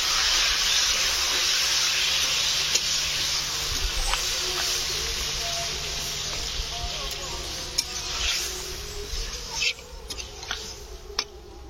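Water poured into a hot pan of jackfruit and potato curry, giving a steady loud hiss and sizzle throughout with a few small pops and clinks.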